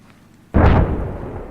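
A single artillery shell detonates in the video game ArmA 3 as one sudden loud boom that rolls off into a short rumbling decay.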